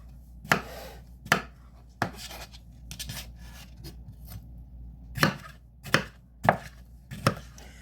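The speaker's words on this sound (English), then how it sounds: "I'm just gonna go ahead and cut these into smaller chunks" A knife chops through melon on a cutting board in about nine sharp, unevenly spaced strikes, close up and with no talking.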